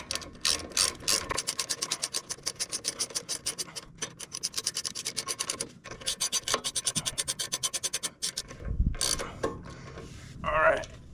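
A hand ratchet tightens the front brake caliper bolts on a Harley-Davidson Road King Special, with rapid close clicking in repeated bursts and short pauses between strokes, followed by a few scrapes and knocks.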